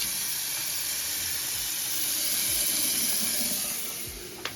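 Tap water runs steadily into a newly installed bathroom sink drain, a continuous close hiss of flow splashing into the basin throughout, with no talking.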